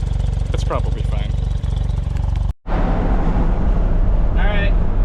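A Suzuki Cara kei car running a little hot after a failed head gasket drones steadily while driving, with a brief dropout midway and voices talking over the engine.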